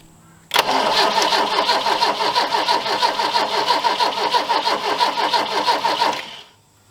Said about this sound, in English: throw the fuel pump on and see if she starts